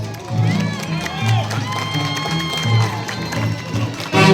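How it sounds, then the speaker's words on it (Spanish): Crowd ovation and applause at a Tunantada folklore festival in Canchayllo, cheering and clapping under a loud announcer's voice and low music. "La ovación y el aplauso del público."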